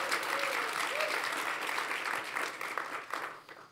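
Audience members at a public forum held in a broadcast center applaud, a brief burst of steady, fairly faint crowd clapping that thins out near the end.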